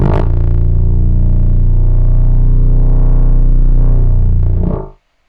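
Synthesized flatulence tube made with Modalys physical modelling, a loud, low, buzzy sustained tone with rich harmonics and a slight wavering pitch, lasting about five seconds before cutting off abruptly.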